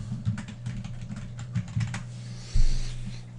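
Fingers type on a computer keyboard to log into a LAN server, a quick run of close, crisp key clicks ending in one heavier thump, like a struck key or desk knock.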